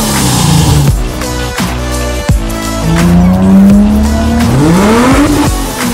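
Nissan Y61 Patrol driven hard across desert sand, on AFE air intake, Icon suspension, Method beadlock rims and Mastercraft tires: a loud, close engine revving and rising in pitch, with several sharp gear-shift breaks and a surging climb at the end.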